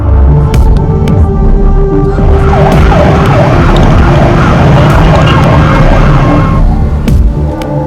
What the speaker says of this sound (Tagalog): ilang truck pa ng bumbero ang labas-masok sa compound ng Cavite Economic Zone